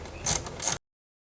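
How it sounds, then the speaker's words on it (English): Two short, close ratcheting bursts loosen a long 6mm bolt at the bottom of a 2001-2005 Ford Explorer door panel, then the sound cuts to silence. "we're going to want to remove these two 6mm bolts that are on the bottom of the panel here"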